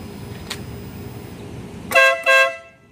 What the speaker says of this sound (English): Gotta let y'all hear this air horn.